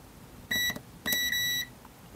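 Two separate electronic beeps from a multimeter continuity test, the first short and the second longer, sharp and close over faint background hum.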